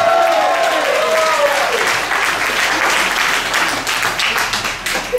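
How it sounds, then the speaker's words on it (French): An audience at a seniors' day show gives a comedian, Francis Guérard, a loud, sustained round of dense applause that holds steady for several seconds, then thins slightly toward the end, with no talking over it. "on va l'applaudir."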